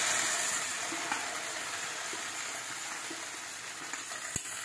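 Potol (pointed gourd) peels frying in very hot oil, giving a steady, soft sizzle with faint crackles and one sharp pop near the end.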